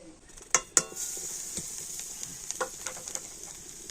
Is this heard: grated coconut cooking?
yes